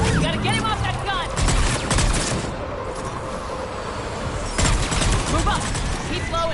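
A mounted gun fires repeated bursts in the video game Mass Effect 3, rough blasts in a battle soundscape, while voices shout over the shooting.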